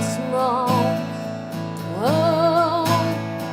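Open, unmuted acoustic guitar strumming of a pop song, chords ringing fully with sustained harmonics and a steady strum rhythm, close and clear with no voice.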